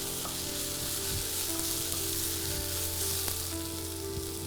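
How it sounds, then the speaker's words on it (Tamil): Tomatoes and green chilies sauté in an oiled pan, giving a loud, steady sizzle with occasional stirring scrapes throughout, no voices. "இதை வந்து ஒரு ரெண்டுலேருந்து மூணு நிமிஷம் நல்லா வதக்கலாம் நல்லா தக்காளி வதங்கிடுச்சு"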